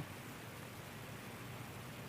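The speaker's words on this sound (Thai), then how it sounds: "เช้านี้ก็ฝนตกแต่เช้าเลยจ้ะทุกคน บรรยากาศก็เนี่ยฝนตก" Soft, steady hiss of morning rain falling in Bangkok, an even wash of noise with no pauses or voices.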